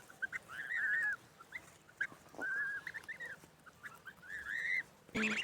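High, wavering peeps from young goslings, several calls in a row with short pauses, fairly close and clear over quiet background.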